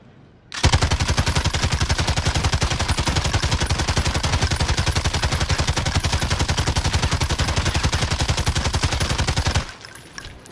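A single sustained burst of video-game automatic gunfire, 100 rounds fired for an anti-recoil test, with shots rattling off at a fast, steady rate for roughly nine seconds before cutting off sharply.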